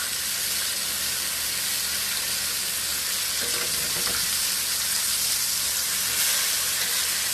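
Pork chops fry in a pan with a steady, close sizzle and hiss throughout, a few brief clatters of the pan being adjusted near the middle, and no talking.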